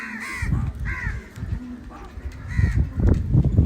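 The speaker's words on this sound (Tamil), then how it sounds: "காக்கா இப்போ காக்கை சாப்பிடுது." Several crows caw harshly in repeated bursts while feeding outdoors, close and loud, the calls overlapping with brief rustling and background chatter.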